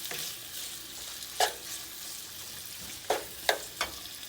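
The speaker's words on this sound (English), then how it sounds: "we got our meat over here browning with the onions" Ground meat and onions browning in a pan, a soft continuous sizzle broken by a few sharp scrapes of a spatula, fairly quiet and close.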